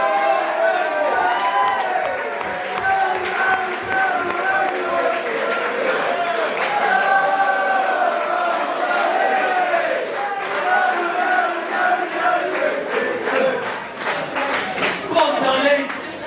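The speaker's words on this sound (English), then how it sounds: "give Danny a big round of applause" Crowd applause and cheering fill the room at an end-of-season awards night, a sustained, dense wash of clapping lasting throughout with voices mixed in.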